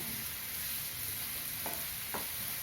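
Onions frying in a pan with rock salt for a dhaba-style egg keema masala give a steady, moderate sizzle, with two brief scraping stirs near the end and no talking.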